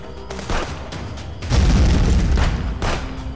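A grenade bursts in the Contraband Police game during a checkpoint assault: a loud, deep boom that rumbles on for a couple of seconds after scattered shots and noise.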